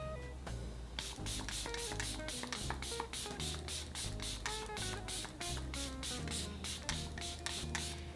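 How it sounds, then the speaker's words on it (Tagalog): Dalba First Spray Serum setting spray is misted onto a face in a long series of quick, soft, rhythmic spritzes, faint and close, over a low steady background tone. "right now ang gagamitin ko is yung Dalba First Spray Serum"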